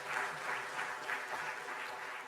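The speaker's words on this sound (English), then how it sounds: "a big round of applause to all our panelists" Conference audience at a regional ocean climate dialogue in Bangkok applauds the panelists, a soft, even roomful of clapping heard from a distance and sustained throughout.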